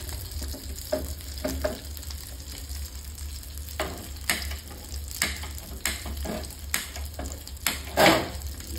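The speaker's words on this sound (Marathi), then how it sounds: "थोडा वेळ तरी पण ह्याला असंच फ्राय करतो" Homemade fish fingers fry in a pan with a steady low sizzle, broken by several sharp scraping and clacking touches as the pieces are stirred and turned close by.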